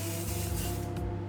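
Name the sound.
cooking spray can being sprayed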